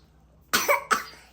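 Two quick, harsh coughs close to the microphone, one right after the other, against a quiet background with no talk.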